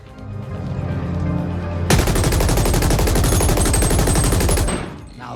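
Assault rifle gunfire in a first-person shooter video game: a sudden, loud stream of rapid automatic shots. The fire cuts in after a quieter stretch, holds steady for nearly three seconds, then stops abruptly.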